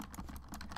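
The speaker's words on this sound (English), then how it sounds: "So my keyboard should be a bit quieter." Quick, faint clicks of keys being typed on a computer keyboard, in a steady patter over a brief moment, with no voices.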